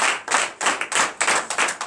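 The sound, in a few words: congregation clapping in acclamation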